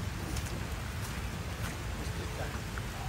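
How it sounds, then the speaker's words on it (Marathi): Rain falls at Harkul dam and waterfall, a steady, faint wash of hiss and patter with no breaks, with a few scattered drop sounds throughout. "नाही पाऊस आहे"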